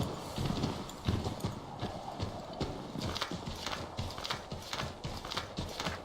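A horse gallops through a snowy forest in Assassin's Creed III Remastered, with quick, rhythmic clip-clopping hoofbeats repeating steadily and close, and a faint whinny mixed in.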